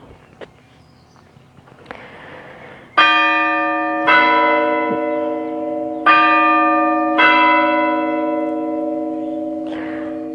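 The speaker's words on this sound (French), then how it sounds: "Accompagné par les chants des oiseaux et les cloches." Church bells ring loud and close in four strong strikes, each hum slowly fading and overlapping, with faint birdsong and outdoor ambience before the first toll; no one speaks.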